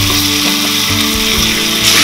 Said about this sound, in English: My pan is hot and to this I'm going to add 2 tablespoons of butter. Next I'm going to add in the diced onions and diced capsicum.